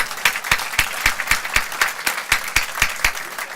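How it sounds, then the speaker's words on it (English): Rhythmic hand clapping, close and fairly loud with steady evenly spaced claps about four per second, from an audience at a holiday celebration honouring the venue owner. "let's give a round of applause to the owner of this place."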